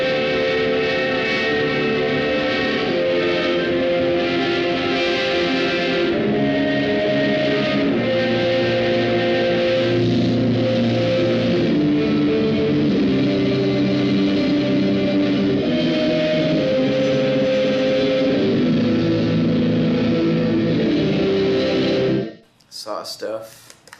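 Electric guitar run through gated reverb and distortion pedals, a dense sustained wash of chords held loud and steady for about twenty seconds before cutting off abruptly, with a few scattered noises after.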